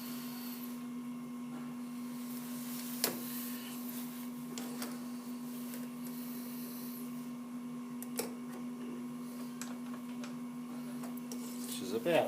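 A metal lathe hums steadily while turning a drive shaft for single-point threading, a constant motor drone with a few faint clicks and ticks over the run.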